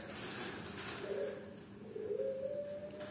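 A perkutut (zebra dove) of the Majapahit type coos in two soft, drawn-out tonal phrases, heard at moderate distance over a steady hiss of outdoor background noise, with no talking.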